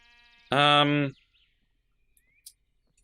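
A single harmonic sheep bleat from a Minecraft modpack, lasting about half a second, rings out clearly against near silence, followed by a faint click.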